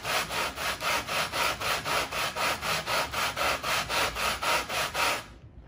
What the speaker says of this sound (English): I really need to kind of sand them down, just to make sure they're going to sit flat